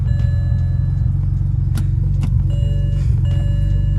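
BMW N54 engine with catless downpipes idling steadily, giving a deep, close exhaust rumble with a continuous low burble and faint occasional pops, no talking.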